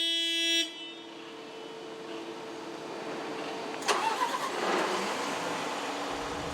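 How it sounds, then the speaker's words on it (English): A Liebherr mobile crane's engine is cranked and starts, with a short tonal beep first, then a rising, churning rumble that settles into a steady running drone, close and fairly loud. "Ottmar, you can start the engine."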